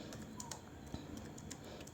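Keystrokes on a computer keyboard while entering text into a Microsoft Word document, a quick run of light, irregular clicks close up with no talking.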